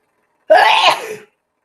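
A single loud, close sneeze bursts out during an online comedy workshop call, sharp at the start and trailing off quickly into silence.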